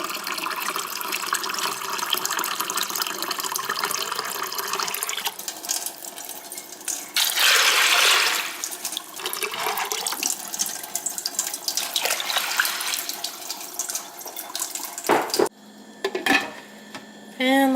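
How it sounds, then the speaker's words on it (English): Tap water runs steadily into a container to soak beans overnight, a continuous hissing rush with brief surges and occasional dish and utensil clatter near the end. "I'm going to take my beans and soak them overnight in some water."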